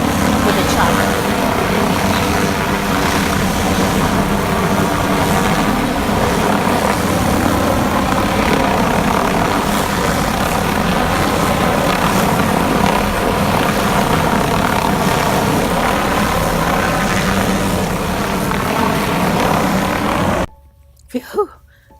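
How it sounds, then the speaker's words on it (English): A helicopter flies low just behind a house, its loud, steady rotor and engine roar holding constant and close for about twenty seconds before cutting off abruptly, followed by a brief quiet stretch with a couple of short sounds. "that was a chopper behind my house"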